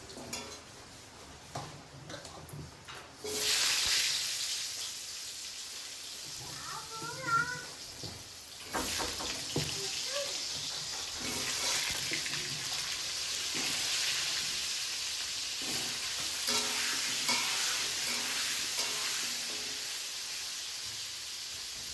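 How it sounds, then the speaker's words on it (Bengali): Potatoes fry in a pan with a steady broadband sizzle that runs from a few seconds in through the rest of the clip. Occasional utensil clinks, a brief higher tonal sound and some background voice sit over it. "ততক্ষণ আলুটা ভাজতে থাক।"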